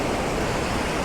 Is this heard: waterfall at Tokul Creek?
yes